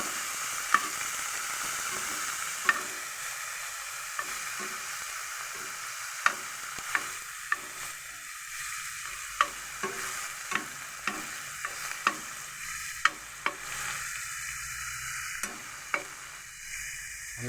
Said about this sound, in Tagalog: Tapos ilagay natin ang kohol.